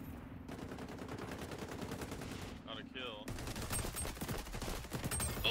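Rapid automatic gunfire in XDefiant, a continuous fast stream of close shots that runs almost without a break, under occasional voices.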